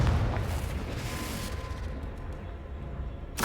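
A Confringo blasting spell goes off in Hogwarts Legacy with a deep boom that rumbles away over a few seconds, followed by a sharp new burst right at the end.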